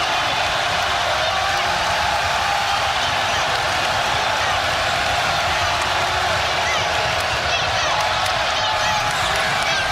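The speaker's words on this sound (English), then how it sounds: "Now you got this crowd involved in the game." Steady broadband crowd din fills a college basketball arena during a Duke at SMU game, a constant loud wash of voices and cheering with a commentator talking over it throughout.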